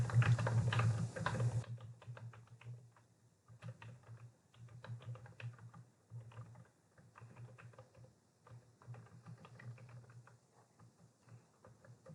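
Typing on a computer keyboard while working in Microsoft Word, soft, quick bursts of key clicks in an irregular patter, close but quiet, after a brief louder noise at the start.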